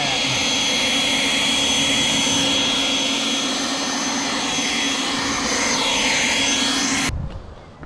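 An electric power garden tool, used here to blow moisture off a 2018 Ford F-250, roars as a steady, loud, close whoosh for about seven seconds and then cuts off abruptly.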